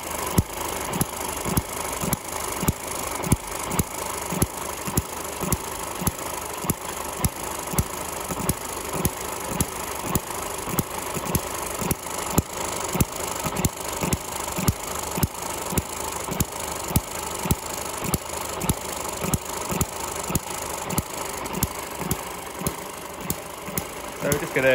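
A small Eachine ET6 model engine runs steadily with rapid, even chugging beats, a continuous mechanical putter at close range for the whole stretch.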